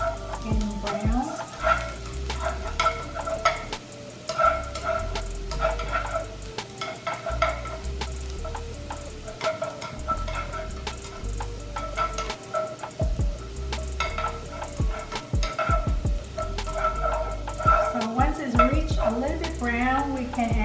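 Shallots fry in a pan for Vietnamese egg rolls, a steady close sizzle with frequent scraping and stirring clatter, while a voice talks over it in places.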